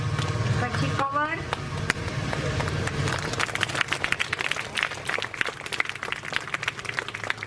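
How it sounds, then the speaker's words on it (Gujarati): Applause at a school Guru Purnima ceremony: steady, dense clapping from a large crowd of students continuing throughout, with a brief voice near the start. "તાળીઓ"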